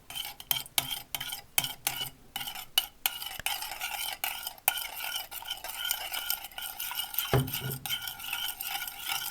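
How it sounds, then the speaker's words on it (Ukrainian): A spoon scrapes and clinks repeatedly against a bowl in quick, irregular strokes, close by, with no voices, stirring eggs, salt and cheese for lazy khachapuri. "Перемішую."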